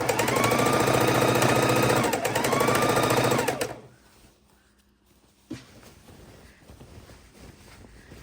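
A sewing machine runs fast and steady joining two long rows of scrappy quilt fabric, a loud close mechanical whir for several seconds that stops abruptly, followed by quiet handling noise and a single soft knock.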